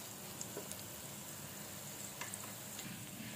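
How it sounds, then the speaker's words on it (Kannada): Peanuts and chana dal frying in a pan for a Mangalore cucumber chutney, a soft, steady sizzle with faint crackles, quiet and continuous with no talk. "ಸ್ವಲ್ಪ ಫ್ರೈ ಆಗಿದೆ"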